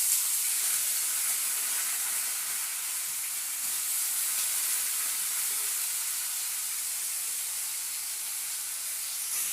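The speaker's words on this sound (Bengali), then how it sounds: "এই বাদামের সাথে আলুটাও ভেজে নিচ্ছি।" Diced potatoes and peanuts fry in a pan with a steady, even sizzle and hiss that runs without a break, with faint occasional stirring and no voices.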